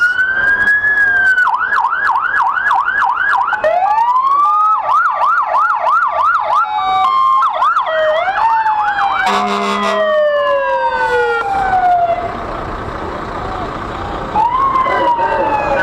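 A state police car's siren wails loudly at a Fourth of July parade in Malone, rising and falling in repeated cycles with quick yelp bursts and a brief horn blast, while faint crowd noise runs underneath.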